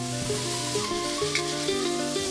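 Vegetables sizzle steadily in hot oil in a pan as they are stirred, a soft constant frying hiss with faint scraping, fairly quiet and close, with no talking.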